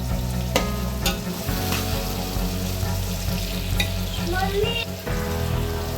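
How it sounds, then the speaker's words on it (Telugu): Macaroni pasta is stirred into a hot pan with carrots, giving a continuous loud sizzle broken by occasional scrapes and knocks of the utensil. "ఇప్పుడైతే మనము పాస్తానైతే అందులోకి వేసే వేసి కలిపేస్తున్నాము"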